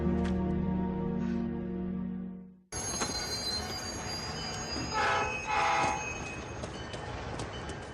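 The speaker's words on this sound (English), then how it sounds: "Train departing to Boston will be on track 4." A train at a station, with a loud rolling rumble of wheels, high screeching wheel squeals and a brief horn blast after a sudden cut from a quieter scene, no talking.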